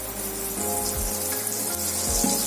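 Bangda mackerel frying in hot oil in a pan, a close, steady crackling sizzle with faint bubbling throughout, no voices.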